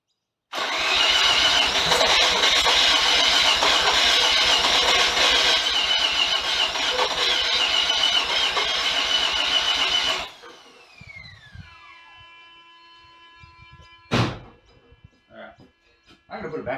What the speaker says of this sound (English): I genuinely take my hat off to these starter motors. This thing has copped a whooping.